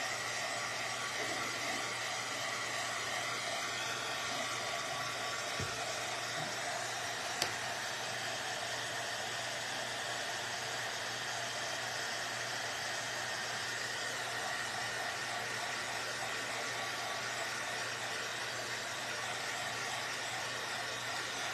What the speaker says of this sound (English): I'm gonna sand the yellow down.